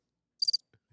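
A brief cricket chirp sound effect plays as a short, bright, high trill burst, followed by a couple of faint soft clicks, isolated against silence.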